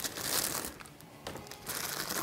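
A plastic bag from a worm farm kit crinkles and rustles as it is handled and opened, with bursts of dry, crackly noise rising and falling close by and no talking.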